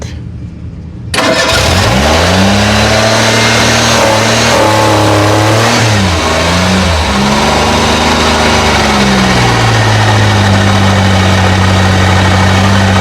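An old, abandoned police car's engine cranked by its starter turns over loudly and close, then churns continuously with rising and falling pitch for the rest of the stretch, with no talk over it.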